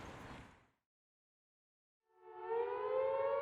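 A civil defence air raid siren wails over Liverpool during the Blitz, a wide rising tone that fades in loud and sustained after a brief burst of noise and a moment of silence.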